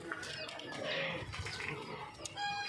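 Young pigeons coo softly nearby with a brief flutter of wings, over faint background noise.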